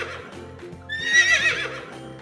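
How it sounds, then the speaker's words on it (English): A short horse whinny rises over a steady bouncy music bed, lasting about a second before fading back into the tune. "Can you neigh like a horse?"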